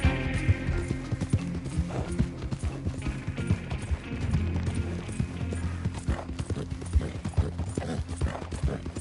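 Horse galloping in the video game Red Dead Redemption 2, with rapid rhythmic hoofbeats and some mechanical clatter, steady and close for the whole stretch.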